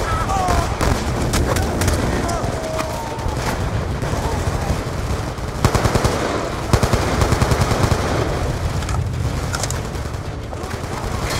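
Rapid automatic gunfire and scattered shots in a Call of Duty: Black Ops 2 firefight, dense bursts over a constant battle din, with voices talking underneath.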